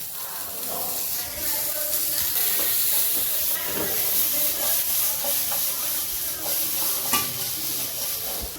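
Onions chopped small sautéing in a pan for a ginger gravy, a steady close hiss and sizzle with occasional stirring scrapes, continuous and fairly loud throughout.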